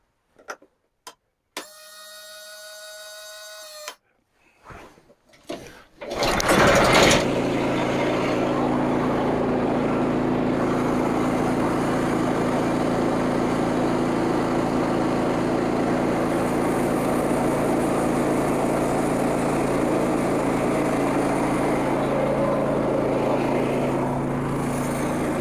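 A Frontier OS27 sawmill engine sputters through a few short start attempts, then catches and runs at a steady, loud idle drone.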